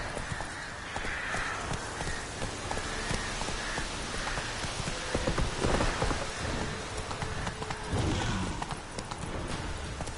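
Horse hooves clip-clopping at speed in The Witcher video game, steady rhythmic hoofbeats over a constant rain-like wash of ambient noise, with a brief voice calling out.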